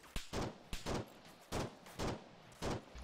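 Gunfire in a military video game comes as a rapid series of about seven sharp, loud shots in uneven bursts, close and punchy with short gaps between them.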